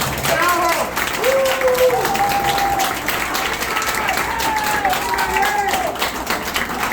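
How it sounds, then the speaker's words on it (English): Applause from an audience at a Bronx community event honoring a congressional representative's team, steady and continuous throughout with scattered voices and tonal chatter layered over the clapping. "So give them a round of applause"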